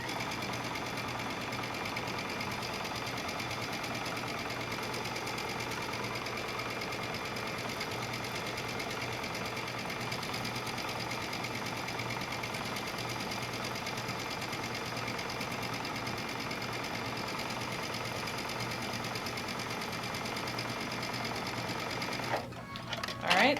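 A sewing machine stitches a reading book pillow in one long, steady, close whir, ending with a brief clatter.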